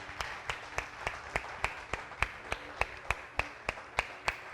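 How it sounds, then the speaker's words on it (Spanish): One pair of hands claps in a slow, steady rhythm of about fifteen sharp, evenly spaced claps, close and distinct, heard at a church revival service with no talk over it. "Denle un aplauso a su Señor"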